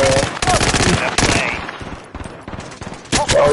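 Rapid automatic gunfire in the Call of Duty Warzone Rebirth video game, loud sustained bursts broken by short pauses and then resuming, with no speech over it.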